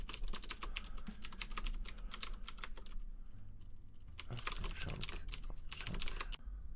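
Rapid clattering keystrokes on a DOS-style computer keyboard, close and continuous with a brief pause midway, then bursts of typing resuming.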